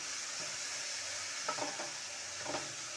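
Julienned cabbage and carrot frying in white oil with salt, a steady broadband sizzle throughout with a few soft stirring scrapes near the middle and end.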